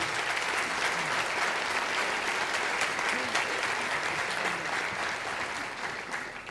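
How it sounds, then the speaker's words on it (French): Sustained applause from a gala dinner audience, a dense, steady wash of clapping that holds at an even level throughout and eases only slightly at the end. "Vous pouvez l'applaudir."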